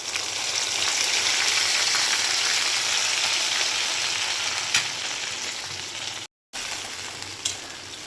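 Fried potatoes sizzle loudly in a pan as a tomato and chili paste goes in, a steady, close hiss running almost throughout with one brief cut near the end.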